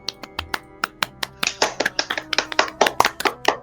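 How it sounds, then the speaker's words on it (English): Hands clapping close by, starting as sparse sharp claps and quickening into a denser run of around twenty smacks with ringing overtones behind them. "Clapping!"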